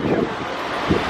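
Gusty wind buffets the microphone in a steady rushing roar, with brief louder puffs of air.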